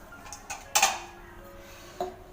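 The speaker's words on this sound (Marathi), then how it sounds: "एक मिनिट डबा खोलते" A chapati storage tin is opened in a home kitchen with a few light metallic clinks, followed by one louder clattering rattle of the lid and a final soft tap, all close by and with no talking.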